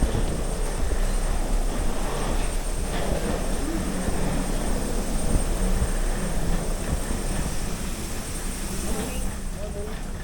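Inside the cabin of an Embraer 190 airliner in flight to Kampala, a steady broadband engine and air roar runs throughout, with voices talking faintly over it.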